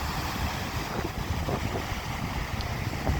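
Sea waves and wind roll along the evening coast as a loud, steady roar of surf and gusty wind buffeting close to the microphone, with no speech.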